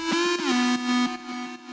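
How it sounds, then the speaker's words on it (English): A square-wave synth lead using the My Little Portal preset from Sounds of the Nebula Volume 1 plays a short, bright, buzzy melodic phrase. The notes are loud and rhythmic and include a gliding pitch drop, with no other sounds. "So the main lead in this is this square lead right here."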